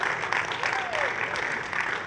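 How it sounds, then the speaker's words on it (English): An audience at a developer conference fills the room with sustained, dense applause from many hands, loud and even throughout, with faint voices and a gliding tone beneath it. "Give her a huge round of applause."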